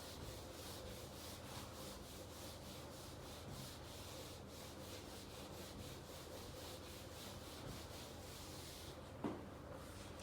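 Steady, continuous rubbing strokes as writing is wiped off a board during a trigonometry lesson, close and fairly even throughout, with a brief knock near the end.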